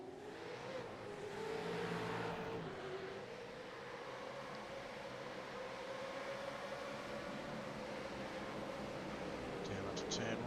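V8 Supercars race cars accelerating away together from the start, a dense, distant engine roar with rising revs sustained throughout, a commentator talking over it.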